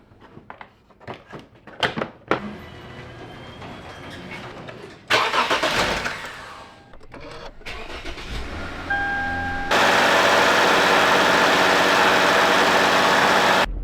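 A Lexus IS250 engine cranks and fires up after ignition coil and spark plug work, following scattered clicks and clatter, then settles into a loud, steady idle close by.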